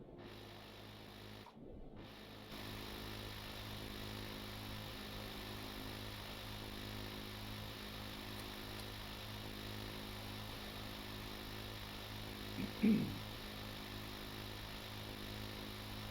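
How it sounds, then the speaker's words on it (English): A deep water well drill runs in the video game Stormworks, a steady mechanical whir with a sewing-machine-like hum. It keeps going after a brief dropout near the start, with a short clunk late on. "And now it's drilling."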